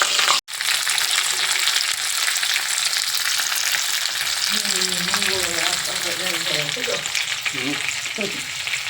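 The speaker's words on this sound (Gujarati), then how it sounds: "તો ચાલો મિત્રો પહેલાં ફુલેવર થોડુંક તળી નાખીએ" Cauliflower florets deep-frying in hot oil for a paneer, cauliflower and pea masala curry, giving a loud, steady, close sizzle throughout, with a voice speaking over the second half.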